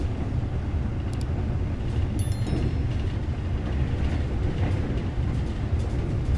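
The KA Anggrek passenger train runs on rails between Bekasi stations, giving a continuous low rumble with faint rhythmic clacks and a brief high squeal, loud and steady from inside the carriage.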